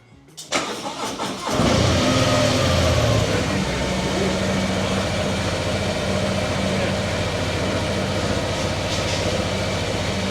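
A Harley-Davidson Road Glide CVO ST motorcycle engine cranks briefly, then starts up with a loud roar and settles into a steady, rumbling close idle.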